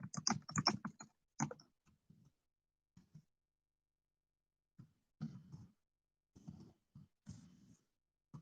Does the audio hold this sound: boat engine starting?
no